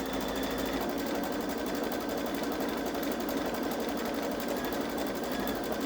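Baby Lock Solaris Vision embroidery machine stitching out a logo design, a steady fast mechanical chatter with an even needle rhythm throughout, close and unbroken, no voices.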